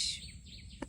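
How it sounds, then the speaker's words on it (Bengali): Small birds chirp brightly in short high calls on a cloudy morning after a night of rain, near a flowering bakul tree in Bangladesh; a couple of sharper, closer chirps come right at the end. "আর সে সাথে পাখির কিচিরমিচির সকালবেলা"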